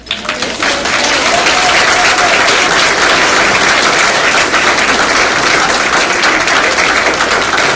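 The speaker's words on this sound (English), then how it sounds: "If you could all please just give a round of applause for Christine Andrews" Sustained applause fills a room at a youth awards dinner, a dense, loud wash of many hands clapping that swells quickly after a faint start and carries on steadily to the end.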